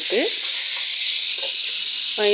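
Onion and tomato frying in oil for a dosa topping, a constant bright sizzle throughout with a few faint utensil scrapes and brief tonal clinks.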